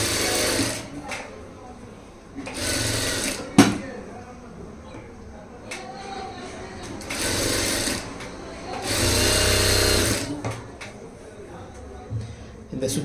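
A sewing machine stitches a saree blouse in several loud, separate bursts of whirring stitches, each lasting one to two seconds, with pauses, clicks and a voice in between.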